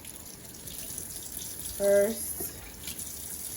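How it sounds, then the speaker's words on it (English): Hot water pours from a sink faucet in a steady, soft hiss, with one short spoken word partway through. "I'm gonna turn on some hot water"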